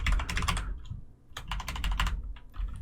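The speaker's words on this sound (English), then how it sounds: "I'm going to type in all the names" Fingers typing names on a computer keyboard, close clattering keystrokes in two quick flurries separated by a short pause, with no talking.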